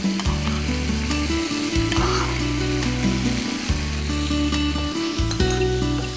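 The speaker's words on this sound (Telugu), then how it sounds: "దానిలో మనం ముందుగానే ఉడికించుకున్నటువంటి వరిగలు వేసేసుకుందాం." Cooked foxtail millet hits a hot tempering in the pan and sizzles steadily and loudly, with a rhythmic mechanical whirring running under it and the clatter of stirring.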